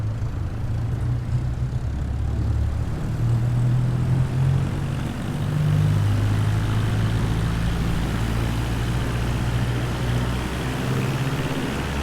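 Grob G115E Tutor propeller engine during takeoff in MSFS 2020, a steady loud drone with a low hum and shifting engine tones, continuous throughout.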